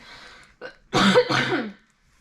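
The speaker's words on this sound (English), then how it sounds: "I'm trying to cough away from the mic." A brief throat-clearing cough followed by a couple of harsher coughs, muffled and slightly off-microphone, with quiet room tone before and after.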